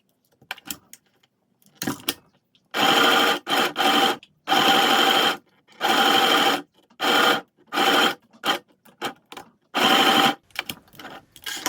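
A sewing machine stitches patches onto a fabric vest in loud, close bursts of rapid whirring, several longer runs and many short stops and starts, with quiet snips and handling between them.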